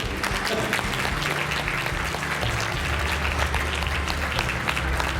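A crowd applauds steadily at a Miss Italia Veneto pageant selection, many hands clapping in a dense, continuous patter at moderate volume, with a faint murmur of voices underneath.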